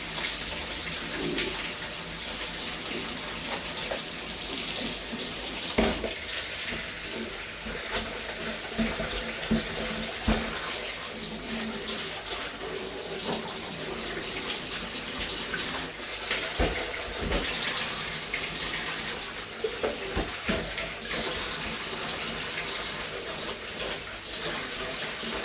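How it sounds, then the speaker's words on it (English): Tap water runs continuously as a plastic item is rinsed beneath it, a steady near hiss of flowing water with occasional louder splashes. "Give that a rinse."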